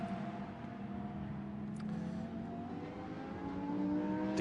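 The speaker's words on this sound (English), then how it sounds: "So cars making their way now round to the grid in readiness for the first of two of these 50-minute races this weekend" Lamborghini Super Trofeo race cars rolling slowly toward the grid at the Nürburgring, a steady low engine drone with layered tonal hums that swell gradually louder toward the end, no voices.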